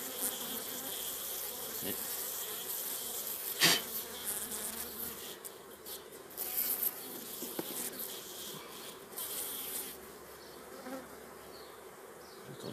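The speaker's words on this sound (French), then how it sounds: "J'ai dû coincer une abeille quelque part en reposant un cadre." Honeybees swarm around an opened hive during a hot-weather first inspection as frames are lifted and set back, making a dense, steady buzz close by with a few brief louder whines and one short spoken word.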